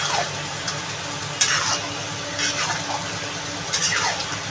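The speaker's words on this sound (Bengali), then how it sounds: "এবার এটা আমি ঢেকে ঢেকে কষাবো বন্ধুরা," Potatoes and fish liver sauté in a pan, a steady dense sizzle broken by a few bursts of stirring and scraping, close and loud with no talk.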